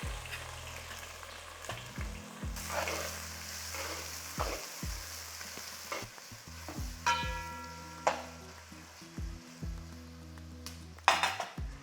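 Four large onions, sliced lengthwise, sizzle and fry in a pot of mutton dum biryani, with occasional stirring clinks, over steady background music.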